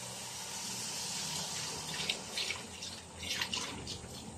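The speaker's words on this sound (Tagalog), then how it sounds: "lagyan natin yung gata" Coconut milk pours into a pot in a steady liquid stream, a close gushing splash that swells near the end, no talking.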